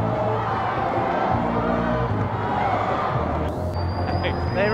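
Crowd at a high school basketball game in a convention center cheering loudly and continuously, a big roaring swell of voices with whoops, as a commentator talks over it and a whistle shrills near the end.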